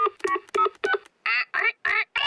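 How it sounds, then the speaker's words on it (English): Cartoon phone dialing: a quick run of distinct electronic keypad tones, several short beeps in steady rhythm, loud and close, with no talk over them. "I'll ring Granny Pig."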